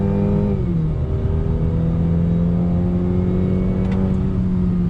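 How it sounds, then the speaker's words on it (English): A 2020 Cadillac CT5 rear-wheel-drive luxury sedan accelerating hard in second gear on throttle, its engine note climbing steadily and loud after a brief dip at the start, with no talking. "let's go ahead and see the acceleration. Second gear on throttle."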